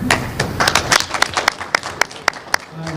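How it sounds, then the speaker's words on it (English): Audience applauding a speaker at a community talk on raising African immigrant boys in the US: scattered, uneven claps from a small crowd, some sharp individual claps near the mic, thinning out by the end. "Big clap for Brad."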